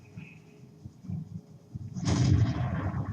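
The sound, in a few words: tank gun firing in video game World of Tanks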